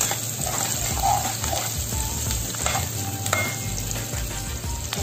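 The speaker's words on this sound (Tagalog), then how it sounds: "sautéin lang guys hanggang sa maluto naman ang ating onion" Chopped onion sautés in a hot pan for pork ribs Bicol Express with eggplant, a steady close sizzle with occasional scrapes and light clinks of a spoon stirring, no voices.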